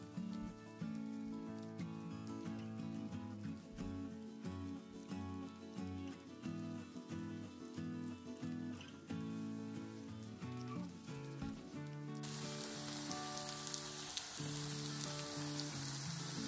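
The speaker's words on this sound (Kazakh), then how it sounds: "Барлығын дайындап болған соң, қызып тұрған табамызда қуырып аламыз." Meatless, egg-free cutlets fry in a hot pan over medium heat, the sizzle rising into a steady crackling hiss near the end after a long stretch of background music.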